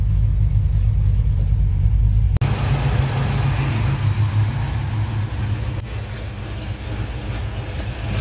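A 1970 Pontiac LeMans with a 455 engine and MSD ignition drives on a test run at partial throttle. A loud, steady, close engine drone and rumble fills the cabin, with one brief click partway through.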